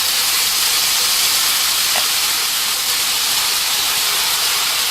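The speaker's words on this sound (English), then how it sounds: "About ½ an inch of oil, and fry these motherfuckers up." Chicken for a velvet oyster chicken chow mein frying in about half an inch of hot oil gives off a steady, dense sizzling hiss that stays even and unbroken throughout, close and fairly loud.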